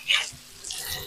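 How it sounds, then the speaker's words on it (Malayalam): Water poured into a pan to make the sauce for fish tawa masala, a short close splash followed by softer trickling. "പുളിപ്പിന് ആവശ്യമുള്ള വെള്ളം ചേർത്ത് കൊടുത്തിട്ട്"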